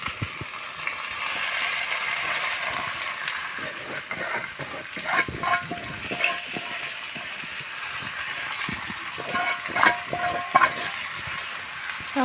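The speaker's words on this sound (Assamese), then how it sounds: "চাউলখিনি অলপ ভাজি থাকিব লাগিব" Rice for chicken pulao, added with bay leaf and cardamom, fries and is stirred in a pan, giving a soft steady crackle with scraping spoon strokes, fairly quiet and without talk.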